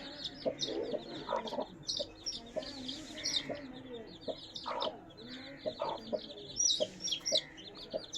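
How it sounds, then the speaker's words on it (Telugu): A brood of about twenty chicks from a big rooster of the Kata and Parrot breeds peeps and clucks continuously at low volume, with scattered high chirps and soft hen-like clucks throughout. "ఇదిగోండి పిల్లలు చూడండి"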